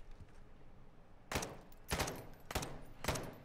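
Suppressed weapon fire in Call of Duty DMZ, a video game: four sharp, muffled shots spaced roughly half a second apart, standing out clearly over a low ambient background with no talking.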